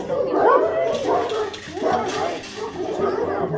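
A mother dog whimpers and whines toward her grown puppy from behind a garden gate, a close series of high, wavering cries repeated over a few seconds.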